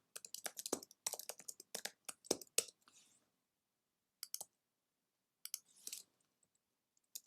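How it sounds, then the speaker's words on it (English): Fingers type on a computer keyboard in quick, close clicking bursts, then pause in silence before a few more scattered keystrokes follow, fairly faint. "Let's say I am typing along, composing my story"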